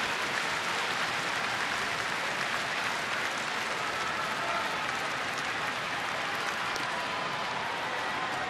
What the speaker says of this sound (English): Chicken getting the rhythmic applause going